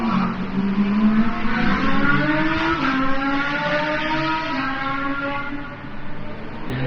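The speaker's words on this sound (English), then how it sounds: "you can hear the engine and you hear it screaming. You know there's a racetrack right next to you" Race car engines on the SPA racetrack beside an abandoned hospital, a loud, sustained high-pitched whine with a rising and falling pitch as cars accelerate and pass, heard from close by without talk.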